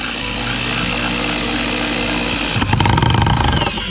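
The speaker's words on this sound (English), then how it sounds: "All right, so I'm going to use my drill." A steady whirring power drill runs throughout, then grinds louder and rougher near the end as it drives a screw into hard wood.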